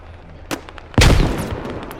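Gunfire in the military shooter Squad: a sharp shot near the half-second mark, then a loud sustained burst of firing from about one second on, with overlapping reports and a rumbling tail.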